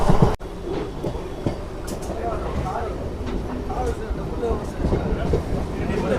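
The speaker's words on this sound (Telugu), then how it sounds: "కానీ మన ప్యాసింజర్ ట్రైన్ 100లోనే వెళ్తుంది" Onboard a passenger MEMU express train running between Vijayawada and Tirupati, a steady loud rumble of wheels and carriage noise fills the cabin, with faint clattering throughout.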